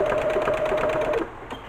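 A sewing machine stitches a buttonhole zigzag, its rapid rhythmic needle clatter close and steady with a humming motor tone, then stopping near the end with a couple of softer mechanical clicks.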